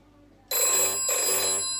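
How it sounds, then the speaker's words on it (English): An electric telephone bell on a Plan 107 extension telephone starts abruptly and rings loudly in two long bursts with a brief dip between them. No voices are present. "the extension will ring"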